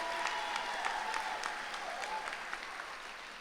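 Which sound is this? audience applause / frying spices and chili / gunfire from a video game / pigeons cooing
audience applause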